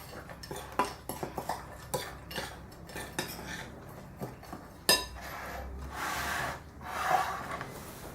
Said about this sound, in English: you can spoon that, mix it around